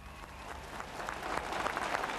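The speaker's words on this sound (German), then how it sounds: "Der Applaus kommt ja wirklich von Herzen." Crowd applauding the Danish royal family, likely gathered below the Amalienborg balcony, a broad outdoor patter of many hands that swells slightly louder toward the end, with no speech over it.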